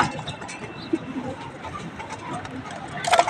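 Young pigeons on their third day in a loft, being fed, give soft cooing calls and rustling among steady background noise, with a brief louder burst near the end.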